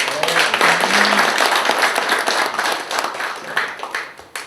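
Audience at a founding general meeting of a Goyang business association claps together in a dense burst of applause that tapers off toward the end, with some voices mixed in.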